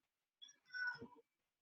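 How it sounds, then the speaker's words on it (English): A hungry pet cat gives one short, close meow lasting under a second, heard alone in an otherwise quiet indoor room. "Sorry if you just heard my cat."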